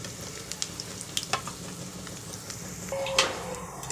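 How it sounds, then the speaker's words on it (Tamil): Mustard seeds, cumin, chana dal, urad dal and peanuts sautéing in hot oil for a corn kitchadi, a steady crackling sizzle with sharp pops and spatters, a few utensil clinks, and a brighter hiss swelling near the end. "கொஞ்சம் கடுகு, சீரகம், கடலைப்பருப்பு, உளுந்து, நிலக்கடலைப்பருப்பு இது எல்லாத்தையும் இதில் ஒன்றா போட்டு கொஞ்சம்"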